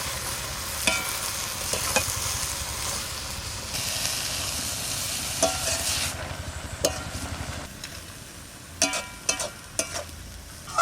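Fresh greens are stirred into a bubbling koi fish curry, giving a steady simmering hiss with scraping stirs, then quieter bubbling broken by a few sharp clinks near the end.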